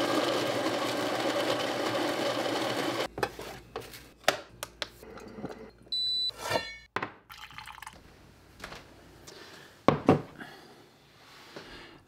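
An electric coffee grinder runs loudly for about three seconds and then cuts off, leaving a quieter stretch of scattered clicks, taps and clinks with no talking.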